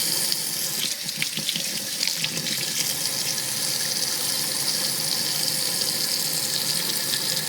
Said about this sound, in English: what I'm going to do while I rinse is just go in with this brush and just really scrub